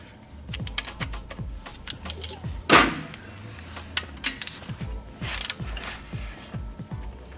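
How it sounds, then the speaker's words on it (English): A hand wrench ratchets on engine bolts during a Suzuki Jimny, Katana or Samurai engine service, giving rapid clicking bursts, a few metallic clanks and one sharp knock, close up with no talk. "we're going to torque these at 24 or 26 foot-pounds"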